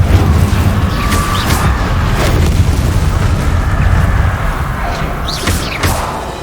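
Incendio fire spells in Hogwarts Legacy boom and roar continuously, a loud dense rumble with brief whooshing flares layered on top throughout.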